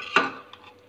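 A pressure cooker lid set down over a pot of cluster bean and dry prawn curry, one sharp metallic clank followed by a fainter knock, close and alone.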